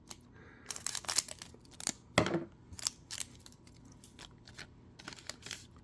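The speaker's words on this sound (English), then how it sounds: "just use some scissors here" Scissors snip through plastic packaging on a One Piece card pack, giving a run of short, close crisp cuts and crinkles with a few louder bursts and no talking.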